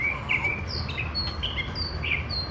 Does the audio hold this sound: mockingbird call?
yes